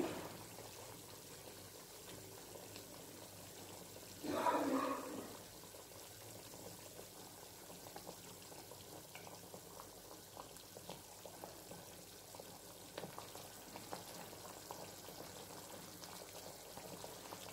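Low, steady bubbling and faint crackle of something simmering in a pan, with a brief louder splash or stir early on; no voices.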